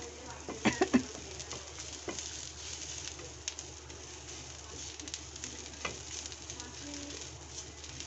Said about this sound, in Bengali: এই যে পেঁয়াজ আর শুকনো মরিচ এই যে ভাজা করছি